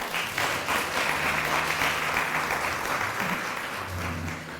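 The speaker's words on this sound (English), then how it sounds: "Give yourselves a round of applause." An audience at the Women's Equality Day luncheon in Greensboro applauds warmly, many hands clapping in a steady, full-bodied stream, with faint voices murmuring underneath.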